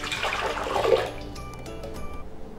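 Warm water pours into a cold KitchenAid mixer bowl, a close rushing splash that fades into a thin trickle and drips.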